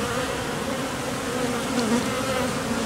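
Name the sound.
honeybees buzzing as newly emerged bees leave cells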